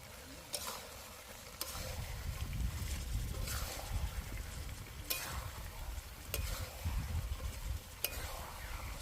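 Meat fries in a pan over a low, constant sizzle, with scraping spoon strokes about every second and a half as it is stirred. A faint voice can be heard in the background.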